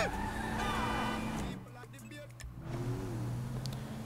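A car drives through GTA 5 with a steady engine hum and a shifting motor tone. The sound is moderately loud and close, with voices talking over it.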